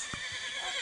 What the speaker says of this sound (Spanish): se están retando los caballos